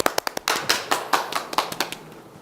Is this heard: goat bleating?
no